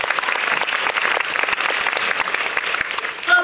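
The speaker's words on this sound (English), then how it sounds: "Can we give them a big round of applause?" Sustained audience applause at a business event, a dense, steady clatter of many hands clapping close by for several seconds, with no talk over it.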